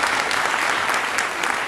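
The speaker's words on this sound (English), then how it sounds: "So another round of applause, ladies and gentlemen." An audience at a Diwali celebration in Belfast claps loudly and steadily after a dance performance, a dense wash of applause for under two seconds.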